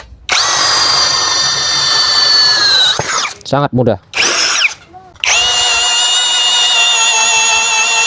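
A yellow JLD brushless 13 mm drill bores into teak with a 16 mm auger bit, loud high-pitched whine with a pause and brief bursts midway, then resuming steady; someone speaks briefly.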